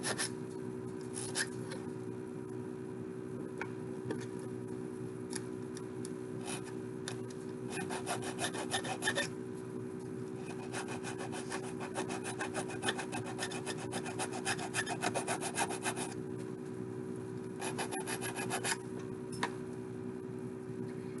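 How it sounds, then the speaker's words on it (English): Hand file rasping steadily against a handmade metal ring on a mandrel, a continuous close scraping with rhythmic stroke bursts throughout. "file down. And this just makes a nicer transition onto the back of your ring"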